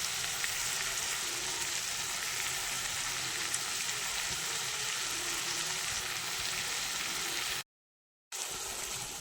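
Tomatoes and salt fry in a pan of spiced masala for a cabbage dish cooked with rohu fish head, giving off a steady, even sizzle that carries on with no talk and cuts out briefly near the end.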